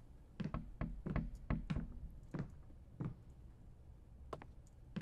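Knocking on a door in a late-night horror video game: a quick cluster of sharp wooden raps at the start, then a few slower, scattered knocks, close and clear against a quiet background.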